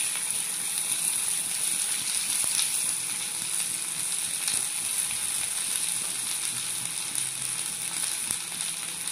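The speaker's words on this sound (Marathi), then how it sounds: "आता आपण इथे आधी जिरं घातलेलं आहे आणि यामध्ये घालू आपण कांदा" Chopped onion sizzles in a spoonful of hot oil with cumin seeds, a continuous bright frying hiss heard up close with no voices.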